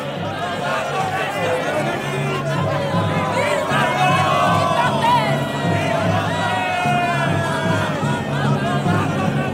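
Dense crowd hubbub, with many overlapping voices chattering and calling out at once, steady and close throughout, forming a busy wash of indistinct talk.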